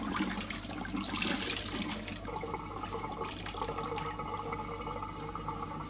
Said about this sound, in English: I'm going to wring out the bag.